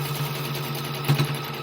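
A sewing machine stitching fabric for a crazy-stitched quilt square, a brief low mechanical hum with a couple of quick stitch bursts, faint and close.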